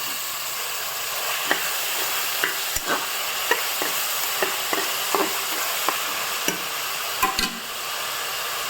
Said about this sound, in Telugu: కొంచెం వేగిన తర్వాత ఇందులో టమోటాలను వేసి వేయించుకోవాలి